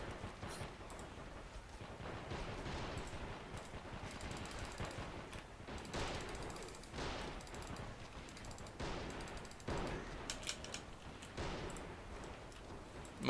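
Online Men of War gameplay carries continuous video game gunfire, with rapid machine-gun bursts and scattered shots over a busy, noisy battle background, fairly faint throughout.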